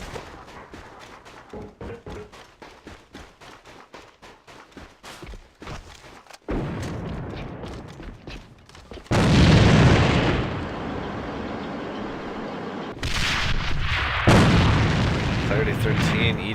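Grenades bursting in the online shooter AVA during an ESL NA tournament match at a warehouse entry: a run of sharp rapid game shots gives way to loud, broad explosive blasts around the middle and again near the end, with commentary running over them.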